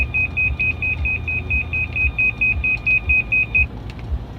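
A loud personal alarm device sounds a rapid, regular series of piercing electronic beeps, close and insistent, about fifteen pulses in a steady rhythm before cutting off, over a low rumbling background.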